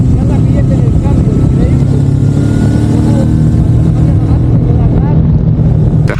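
A fast, powerful 145-horsepower motorcycle accelerating hard out of a curve, its engine a loud steady roar with rising and shifting tones throughout, close up and continuous.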